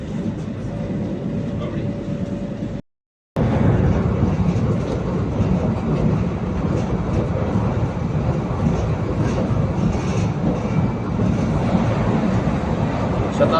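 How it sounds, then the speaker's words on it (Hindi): Shatabdi Express from KSR Bengaluru to Chennai Central passing alongside the Chennai–Mysuru Vande Bharat Express, a loud continuous rushing rumble of rail cars with wind noise and faint rhythmic clatter after a brief dropout, heard from onboard. "और अभी हम हमारे साथ KSR बेंगलुरु से चेन्नई सेंट्रल जाने वाली शताब्दी एक्सप्रेस का क्रॉसिंग होने वाला है।"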